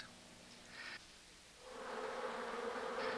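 Honeybees buzz in a soft, continuous drone, faint at first and growing fuller and steadier partway through, with no voices.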